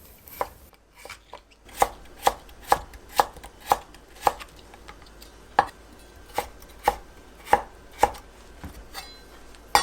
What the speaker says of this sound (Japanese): 残りの大根は短冊切りにして